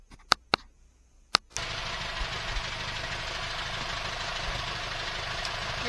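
An IH 2504 tractor engine settles into a steady, close idle with an even low rumble and knock, preceded by a few sharp clicks and knocks.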